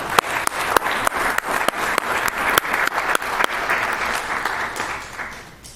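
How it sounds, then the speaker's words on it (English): City council meeting audience breaking into applause, many hands clapping close and loud with a few sharp individual claps standing out, fading toward the end. "We've got to give them a round of applause."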